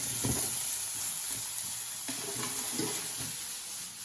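Scallions sautéing in a hot pan in a restaurant chef's home kitchen, a steady close sizzle with soft stirring scrapes and clicks throughout, no talking.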